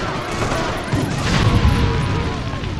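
Weapons fire and explosions in the riot game State of Emergency, a dense, loud barrage of rattling shots and booming blasts mixed with crowd noise, continuous and close.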